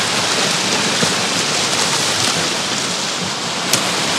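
Steady heavy rain hisses loudly and continuously, with the occasional louder drop or patter standing out nearby.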